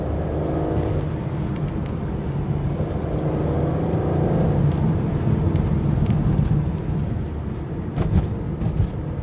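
An Aston Martin, either a DB9 or a Vantage, pulls hard in third gear with a loud, steady engine drone heard from inside the cabin, rising slightly before a brief throttle blip near the end.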